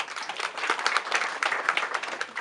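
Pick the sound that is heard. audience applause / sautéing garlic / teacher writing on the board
audience applause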